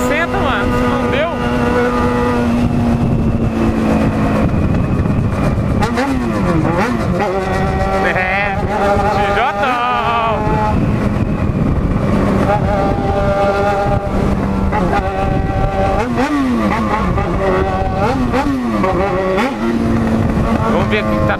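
A Yamaha XJ6 motorcycle riding fast through the city streets of Londrina, its engine droning steadily and rising and falling in pitch through gear changes, loud and close, with wind rush and someone talking over it.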